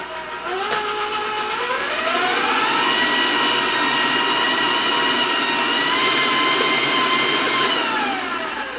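Electric mixer beating spice cake batter, a loud continuous motor whine whose pitch climbs as it speeds up, then holds steady before easing off slightly, running alone close up.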